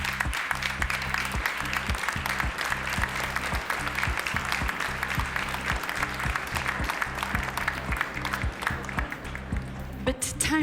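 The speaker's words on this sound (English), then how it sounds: "We can give him a big round of applause" Audience applause at a live-streamed showpiece competition, broad and continuous under a steady rhythmic music beat, tailing off near the end.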